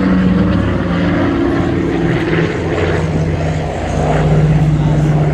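Douglas DC-3 piston propeller engines drone loud and steady at the Flying Legends air show at Duxford, a continuous close-range rumble with a low harmonic hum that swells slightly toward the end.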